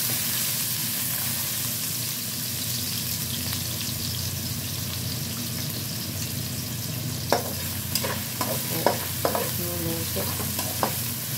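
Garlic and ginger sautéing in a pan for laing, a continuous close sizzle that gains sharp scraping and clacking from a spatula stirring in the last few seconds.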